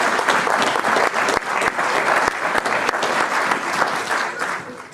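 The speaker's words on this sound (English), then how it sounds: "I think let's do a round of applause for him." A cinema audience at Broadway Cinema in Nottingham applauds during a Q&A, a full, steady wash of clapping with a few sharper individual claps standing out, tapering slightly at the end.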